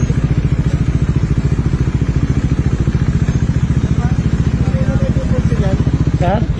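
Motorcycle exhaust running close up with a steady rapid engine pulse throughout, rising briefly near the end as if revved, with talk mixed in over it.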